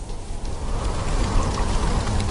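Steady storm rain hisses and patters with a dense, even wash of drops, fairly loud and with no voices.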